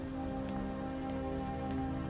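Steady rain falling in the Skyrim video game, a soft continuous patter with faint droplet ticks over a low, constant musical drone, heard alone without voices.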